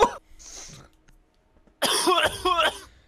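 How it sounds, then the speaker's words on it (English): Short, harsh coughs burst out during a gaming stream, one at the very start and a rougher cluster near the end, with voices talking in between and over them. "Yo, you guys wanna cough in my ear?"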